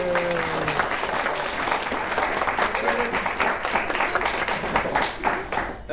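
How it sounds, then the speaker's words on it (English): Wedding guests applaud during a speech, a sustained round of crowd clapping in a room with a few voices and cheers mixed in near the start. "I think there's applause"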